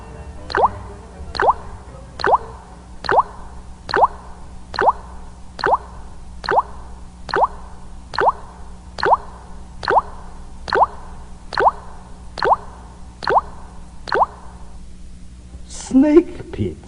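Water falls drop by drop in a steady, evenly spaced series of about fifteen close, clear plinks over a low constant hum, ending in a brief clatter.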